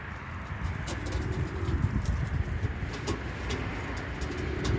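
Homing pigeons coo in their coop, low soft repeated calls sounding close by, with a faint background of passing road traffic.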